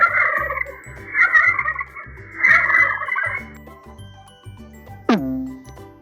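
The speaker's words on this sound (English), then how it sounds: "Turkey." A turkey gobbles in loud, rapid warbling bursts over light children's backing music, followed by a bright chime near the end.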